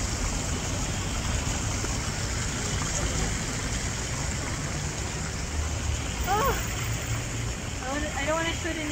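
A water fountain at Jean-Médecin in Nice, France splashes steadily in a continuous broadband wash, close and constant, with faint voices and a brief chirp near the end.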